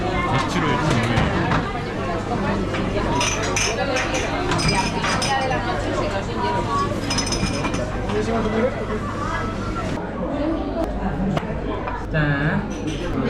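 Glasses clink together in a toast at a restaurant table in Madrid, Spain, a few bright clinks amid busy chatter, cutlery and clatter, with people talking nearby.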